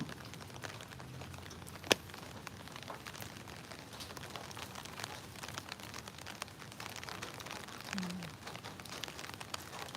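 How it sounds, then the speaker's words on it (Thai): Steady rain patters softly on surfaces in a backyard kitchen garden, a continuous dense hiss of drops with a few louder nearby plinks. "อันนี้มาถ่ายท่ามกลางสายฝนเลยนะคะ"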